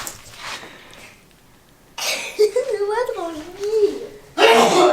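A voice hums and babbles before a sharp, noisy sneeze bursts out close to the microphone at the very end.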